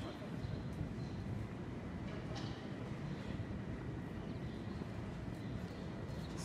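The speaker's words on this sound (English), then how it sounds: "this is South Station. So this is one of the terminals for trains." Busy indoor ambience at Boston's South Station train terminal: a steady wash of crowd murmur and rumbling background noise, with distant voices and faint clanks echoing throughout.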